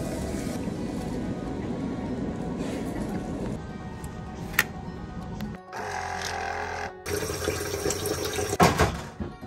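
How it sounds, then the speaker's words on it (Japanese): Cold water runs steadily from a shower, a broad hiss that cuts off briefly and then resumes with splashing closer to the listener. "冷水シャワーやってみました。"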